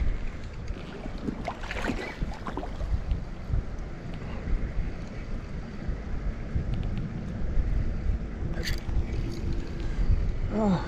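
Strong wind buffets a microphone outdoors by the water during trout fishing, a steady low roaring rumble that runs throughout with gusty swells and a few faint knocks.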